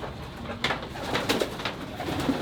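Racing pigeons in a young bird loft give soft, repeated cooing calls close by over a steady background hum, with a few brief rustles; no voices.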